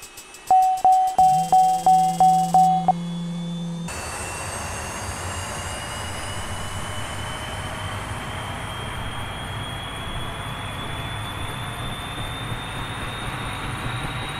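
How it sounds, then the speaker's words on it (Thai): An OH-58D helicopter engine starts up in the DCS flight simulator game. Several short electronic beeps and tones open the clip, then a steady, loud turbine drone with a rising whine holds to the end. "ให้กดค้างไว้นะครับสักพักหนึ่งแล้วเครื่องมันจะเริ่มติดนะครับ"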